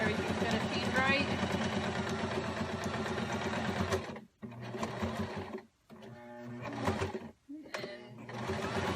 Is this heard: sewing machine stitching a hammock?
yes